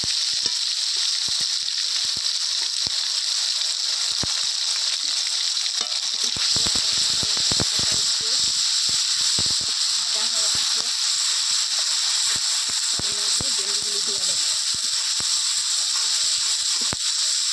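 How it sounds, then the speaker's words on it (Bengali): A steady, even sizzle of onion and green chili paste frying in hot oil runs throughout, with occasional stirring clicks and faint voices in the background. "এখন পেঁয়াজ আর কাঁচা লঙ্কাটা ভাজা হয়ে গেল"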